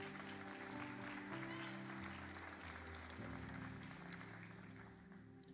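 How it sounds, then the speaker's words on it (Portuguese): A church congregation applauding during a sermon, a steady wash of many hands clapping that holds for several seconds, with low organ or keyboard chords sustained underneath before the applause fades slightly. "Pode aplaudir o nome de Deus."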